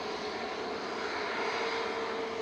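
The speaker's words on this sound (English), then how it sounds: "EasyJet, Guz me. Me. Heading to Alicante with flight 2015. It's an A321neo, one of the long uns." An EasyJet Airbus A321neo jet at Manchester Airport hums on a steady, fairly faint engine drone with a thin whine inside it, unchanging across the short stretch and without speech.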